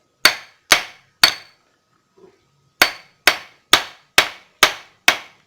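A hammer gives gentle, sharp taps on an engine part as it is turned, about nine evenly spaced knocks in two groups separated by a short pause, close and clear with no talking.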